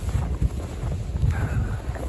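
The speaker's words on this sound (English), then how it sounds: "And the wind's been gusting up to 50 miles an hour." Strong gusting wind from a winter bomb cyclone with wind chill near minus 35 and gusts up to 50 mph, roaring steadily as low rumbling buffeting across the microphone for about two seconds, with no talking.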